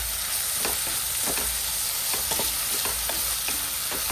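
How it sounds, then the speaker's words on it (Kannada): Onion, capsicum and ginger stir-frying for hotel-style egg chilli, a steady close sizzle broken by repeated spatula scrapes and clacks against the pan, with no voices. "ಇದನ್ನು ಸಹ ಸ್ವಲ್ಪ ಫ್ರೈ ಮಾಡಿಕೊಳ್ಳಿ."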